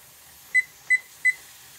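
A kitchen timer gives three short, clear electronic beeps at an even spacing as its buttons are pressed while pepper jelly is being made. The beeps are close and sharp, with a quiet room in between and no talking.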